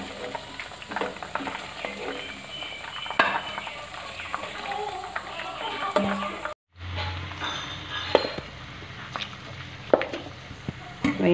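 Chicken pieces frying in hot oil give a steady close sizzle with scattered stirring and clinks of a pan and utensils, broken by a brief gap before the frying resumes.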